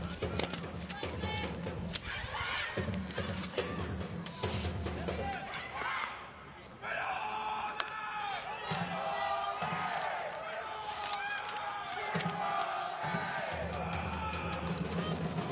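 Crowd noise from spectators at a women's cup final football match, a steady broad roar with swelling cheers across the whole stretch, running under continuous commentary.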